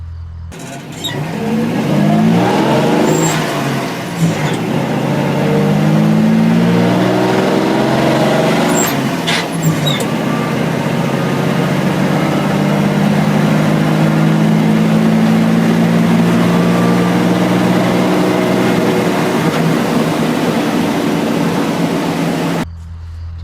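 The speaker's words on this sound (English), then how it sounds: "these V6s, they sound really like weird in a cool way when you hear them running" A V6 truck engine idles steadily and loudly for about twenty seconds, with a deep uneven rumble and a few brief mechanical clanks early on.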